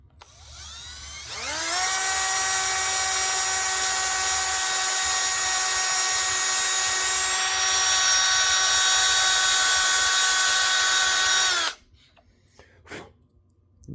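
A power tool in drill mode, turning a wooden pen blank, whines up to a high, steady pitch and holds it for about ten seconds close by, then stops abruptly, leaving faint knocks.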